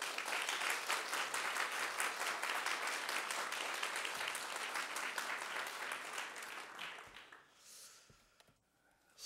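A church congregation applauds a pastor at a Sunday service, steady crowd clapping that holds for several seconds, then tapers off into quiet with a few faint sounds.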